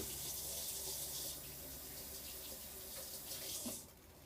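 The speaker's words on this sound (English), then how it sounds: "Let me wash my hands real quick." Water runs from a kitchen tap as hands are washed beneath it, a steady close splashing stream that drops away near the end as the flow is shut off.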